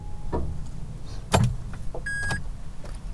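A Smart EQ fortwo electric car is switched on, giving a near, quiet mechanical hum with a few clicks and a short electronic chime, with no engine roar.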